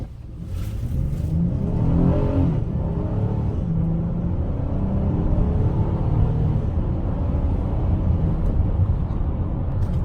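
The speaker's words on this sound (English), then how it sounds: "Now I'm going to do 0 to 60 test on a minivan" A 2022 Honda Odyssey EX-L minivan engine revs up and accelerates hard from 0 to 60, a rising, steady roar with rumbling road noise heard from inside the cabin.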